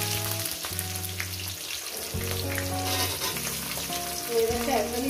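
Chopped onions frying in hot oil after a cumin tempering, a steady sizzle running under background music throughout.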